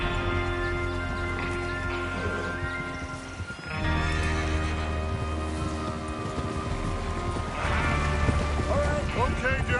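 Horses in the Western video game Red Dead Redemption 2 move along with hoof clip-clops, a whinny and creaking tack, heard close and steady under a continuous game soundtrack.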